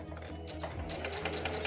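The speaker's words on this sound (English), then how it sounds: "Get to the corner, keep the needle in, lift up the presser foot." A sewing machine stitches a pleated cloth face mask with a fast, even mechanical whirr and clatter close up, continuous under faint room noise and no talk.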